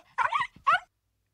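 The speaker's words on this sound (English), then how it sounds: "A puppy." A puppy close by lets out two quick yips and whimpers, the first a rising, wavering whine and the second a shorter sharp yelp, then quiet.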